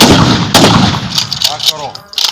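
Gunfire follows a firing command on a range: several sharp, loud reports in quick succession, each with a short ringing tail and ragged echo, close to the listener.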